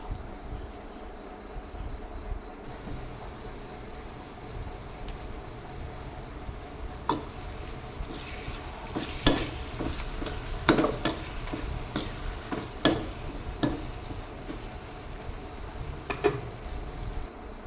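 Crushed ginger and garlic sauté in a pan with beef, a continuous frying sizzle broken by clusters of sharp spatula scrapes and knocks against the pan in the second half, no talking.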